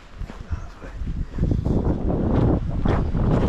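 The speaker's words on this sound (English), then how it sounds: "Windy." Wind buffets a microphone on a Mount Tam trail outdoors, a low rumbling roar that swells louder midway and keeps blowing steadily to the end, with no talk over it.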